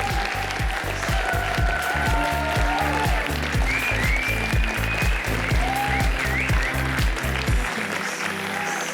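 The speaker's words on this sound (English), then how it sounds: "More applause." Steady, dense audience applause fills an awards ceremony hall, with rhythmic music or clapping accents underneath, continuous and fairly loud throughout before easing slightly at the end.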